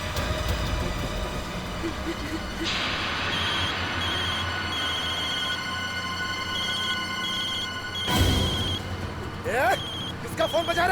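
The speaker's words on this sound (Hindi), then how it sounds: "किसका फोन बजा?" An electronic phone ringtone trills steadily for several seconds over background hiss, followed by a sharp burst of noise and brief voices.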